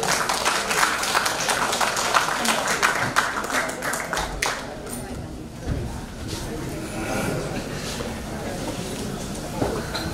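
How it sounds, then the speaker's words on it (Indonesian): An indoor audience at a panel session applauds as two guest speakers are invited onto the stage, producing sustained crisp clapping that later tapers off, with talking mixed in. "Mohon tepuk tangannya."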